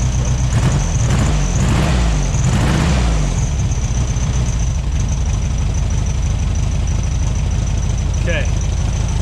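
A 1971 VW Super Beetle's air-cooled engine idles while warming up nearly off the choke, giving a loud, steady, close rumble with a rhythmic throb that runs throughout.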